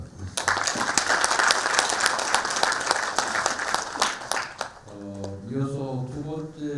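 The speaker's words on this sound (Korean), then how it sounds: "다시 한번 여러분 인사 박수 부탁드리겠습니다" Audience applause fills a seminar on Bundang's future strategy as a digital special autonomous city: dense, steady clapping for nearly five seconds, then a single voice starts speaking as the clapping fades.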